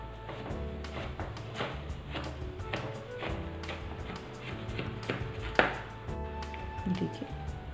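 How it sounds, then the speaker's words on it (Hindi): A knife cuts through a set slab of dry fruit barfi on a board, giving a run of close, crisp taps and clicks spread unevenly across the stretch, with no talk. "अब ड्राई फ्रूट बर्फी को हम काट लेते हैं।"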